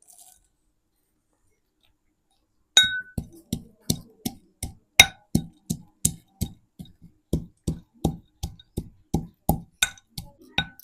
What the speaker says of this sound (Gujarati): આપણે શીંગના દાણા ખાંડી નાખીએ